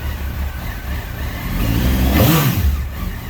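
A stock-exhausted 2002 Honda 919 motorcycle idling after a cold start, a steady mid-pitched engine rumble that swells with a brief rev midway, then settles again, recorded close.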